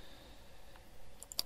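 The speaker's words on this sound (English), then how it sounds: "you can just hit 1 on the keyboard" Single keys pressed on a computer keyboard to trigger a shortcut in drawing software: a few faint, short clicks near the end, over a quiet room hum.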